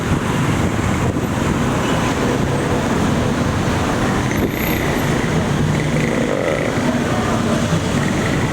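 Steady roar of road traffic at a busy Bangkok street crossing, with motorcycles, cars and heavier vehicles passing continuously, loud and dense throughout with no talk.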